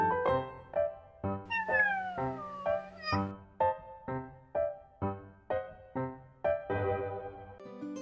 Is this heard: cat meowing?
yes